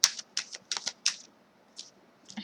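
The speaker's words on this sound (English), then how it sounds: "I'm just going to shuffle this one more time" Several quick, crisp riffles of a tarot deck being shuffled by hand, close up in bursts with short pauses between, no talk.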